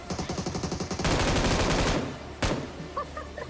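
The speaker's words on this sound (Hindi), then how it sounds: "अब यहाँ पे मैं बस गन का एमो ख़त्म कर रहा था" A gun firing in the mobile game PUBG Mobile: a rapid burst of automatic shots, then a denser roar of gunfire, then one loud crack followed by fainter scattered effects.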